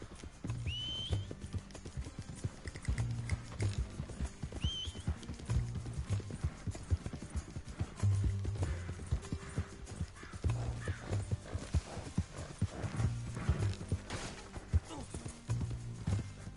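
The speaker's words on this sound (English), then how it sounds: "Damn horse. Shut the hell up." A horse in the Red Dead Redemption 2 video game, its hooves clip-clopping in a steady rhythm throughout. A couple of high whinnies break through early, with faint voices and background game sounds underneath.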